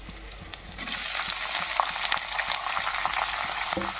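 Onions drop into hot oil already spiced with cardamom, cloves and cinnamon, and a loud, steady hiss of frying rises and holds close by. Occasional stirring knocks sound through it, and nobody speaks.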